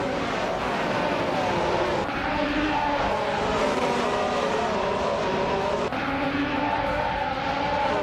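Race cars, including a 2017 Sauber C36, start a race at Circuit Paul Armagnac in a racing video game, a dense, steady roar of engines that holds constant throughout.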